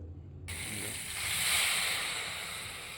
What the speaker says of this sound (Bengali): এখন আমি দিয়ে দেবো একটুখানি জল